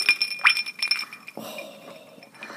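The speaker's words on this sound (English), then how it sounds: "I think there was an air bubble under an ice cube." Ice cubes clink and rattle against a glass of honey whiskey liqueur, several quick bright taps up close, followed by a softer, duller settling sound.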